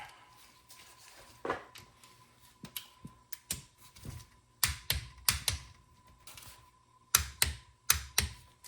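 Torque wrench tightening bolts on a Tremec TKO600 transmission to 15 foot-pounds, sharp close metallic clicks and ratchet taps in short irregular bursts over a faint steady hum.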